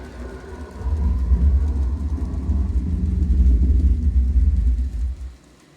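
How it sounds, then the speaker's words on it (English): Thunderstorm sound effect played on a model railroad layout, a deep rolling rumble that swells in, holds for about four seconds, then cuts off abruptly. "I'm going to do a real quick lightning storm so you see it"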